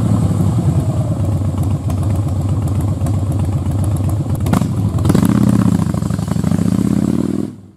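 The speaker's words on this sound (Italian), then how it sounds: "Da qui origina il particolare rumore dei motori Harley Davidson" A Harley-Davidson V-twin motorcycle engine runs loud and close with an uneven, loping idle pulse, then briefly revs higher before cutting off.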